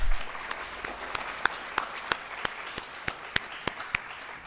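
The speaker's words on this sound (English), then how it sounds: "Please join me in thanking them with a round of applause." Sparse, evenly spaced hand claps ring out one at a time from an audience at a high school National Honor Society induction ceremony, about a dozen crisp claps over a quiet room.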